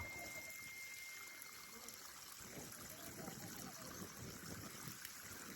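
Water splashes and trickles steadily over a freshly built cement wall being cured at a house construction site, a faint continuous wash with light splattering throughout.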